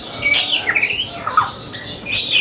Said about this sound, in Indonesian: melatih burung muda, keturunan burung bahorok